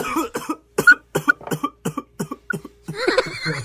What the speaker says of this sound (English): that's a wimpy ass cough